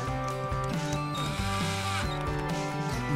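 A power tool whirs and ratchets near the mic in short repeated bursts and changing pitches, tightening the screws on a Bowden belt extruder during assembly.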